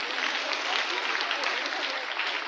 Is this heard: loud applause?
yes